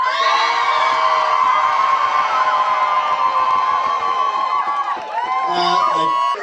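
An outdoor festival crowd at a lovely girls competition cheers loudly and steadily for a contestant's laugh, with sustained shouts and whoops blending together up close.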